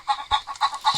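Chickens in a video game give quick, loud, choppy clucks in short bursts, a close flock chattering steadily with no talk over it.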